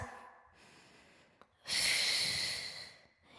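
Heavy breathing during a mat Pilates workout: a faint breath early on, then one long, loud exhale of about a second and a half that dies away near the end.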